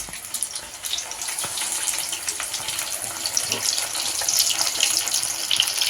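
Fish sizzling in hot oil as it fries on a village wood-fired stove, a steady close bubbling hiss with scattered crackles and pops throughout, no talking.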